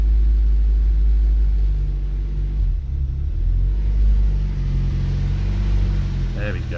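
An 899cc Fiat Cinquecento engine idles with a loud, low, steady rumble up close, holding a roughly even throttle while being tuned, with a voice speaking briefly near the end.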